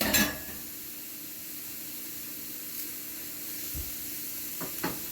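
Ketchup and mustard sauce sauteing in a pan for gratinated chicken, giving a steady low sizzle with a few faint stirring clicks and scrapes near the end.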